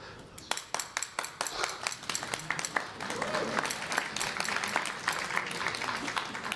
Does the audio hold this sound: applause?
yes